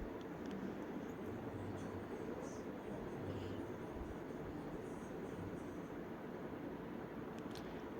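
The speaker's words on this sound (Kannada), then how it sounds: "ನಾನು ಹೋಗೋ ಮೆಟ್ರೋ ಟ್ರೈನ್ ಬಂತು ನೋಡಿ." A metro train arrives at a station platform, heard as a steady, loud, unbroken rumble and roar with a continuous low hum and no talking.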